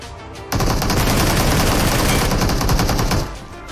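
Automatic gunfire from the BGMI (Battlegrounds Mobile India) mobile battle royale game in a tournament match: a sudden, loud, sustained burst of rapid shots lasting about three seconds, then cutting off.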